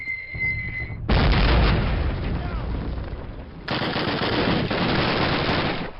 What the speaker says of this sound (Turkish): Bomba geldi.